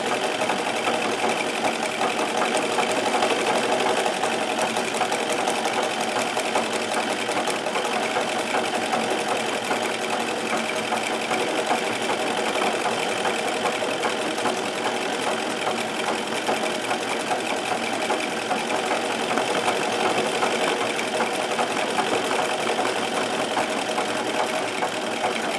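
A Singer 237 sewing machine hums and chatters continuously during free motion embroidery, a steady close mechanical whir with rapid needle rhythm and no pauses.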